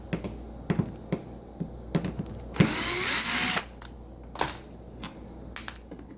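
A power drill backs screws out of a dishwasher door in short whirring bursts, with one sustained run of about a second in the middle, plus scattered clicks and taps of handling at close range.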